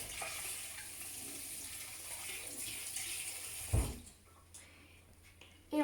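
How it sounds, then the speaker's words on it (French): A kitchen tap runs steadily for handwashing, a soft, continuous splash of water that stops abruptly partway through and leaves quieter, scattered handling noises. "on va se laver les mains."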